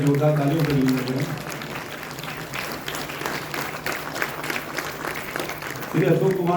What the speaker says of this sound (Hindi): पहले जोरदार तालियों से अभिनंदन करें।